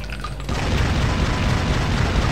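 Turret firing and explosions in Tomb Raider Legend, a heavy booming burst that cuts in abruptly after a brief quieter moment and then rumbles on, loud and dense, without pause.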